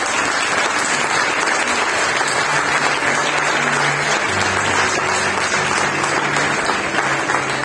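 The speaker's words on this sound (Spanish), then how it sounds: "Denle un aplauso a nuestro Dios" A church congregation breaks into loud, sustained applause, dense clapping from many people filling the room for several seconds.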